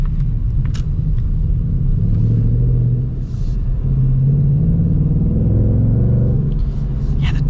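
A 2025 Ford Mustang 60th Anniversary Edition engine hums steadily and climbs in pitch as it accelerates, a smooth sustained rumble close by with no talking.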